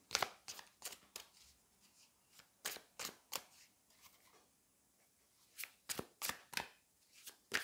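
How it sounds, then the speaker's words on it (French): Tarot cards being handled and drawn from a deck: sharp papery snaps and flicks in uneven bursts, close and crisp, with quiet gaps between clusters and no talking. "je vais juste prendre une carte du tarot"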